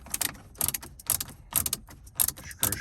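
Ratchet working 7mm bolts loose on a 2016 Silverado, with several short bursts of clicking, about five quick clusters, close and distinct.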